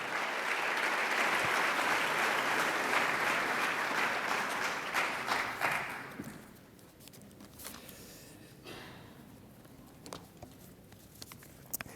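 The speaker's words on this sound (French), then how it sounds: "Merci de l'applaudir." An audience at a French-language lecture on how Greek tradition passed into the Middle Ages applauds the speaker, a dense, full round of clapping for about six seconds that then thins into scattered, fading claps.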